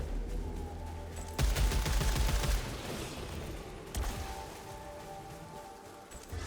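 Enemy missiles fire in the video game Returnal as a sudden rumbling barrage that bursts in loudly, fades, then surges again over a humming ambient background.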